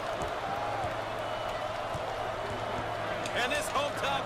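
Hometown arena crowd in the basketball video game NCAA Basketball 10 roars in a steady, loud wash of cheering that swells slightly near the end, with someone talking over it.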